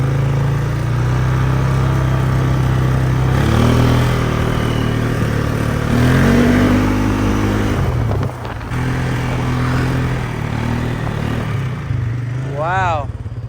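A Polaris Sportsman ATV engine idles and then pulls away on backyard trails, a close, steady mid-pitched drone rising in pitch as it accelerates and shifts, with a person talking over it.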